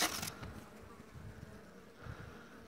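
Honey bees buzz softly and steadily inside a hive opened for a winter inspection, with a brief louder rustle at the very start.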